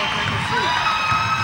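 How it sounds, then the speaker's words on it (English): Capacity crowd roaring and cheering in a packed high school basketball gym at Forest Lake Christian, a sustained, loud wash of shouts and whoops. "As the crowd roars its approval here at Forest Lake Christian"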